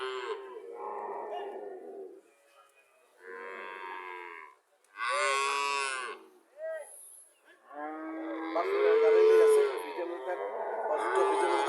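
Dairy cows at a busy cattle market give several loud, drawn-out moos in irregular bursts, some overlapping, with pauses of quiet between them.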